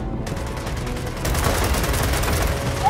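Sustained rapid gunfire in the video game Gears of War 4 crackles continuously, growing denser and louder halfway through, with no pauses between shots.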